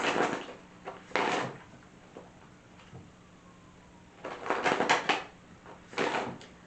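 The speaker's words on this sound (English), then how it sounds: "Let me give it 2 more shuffles." Akashic Tarot cards being shuffled at close range, a few quick papery riffling bursts separated by quiet pauses, soft and intimate.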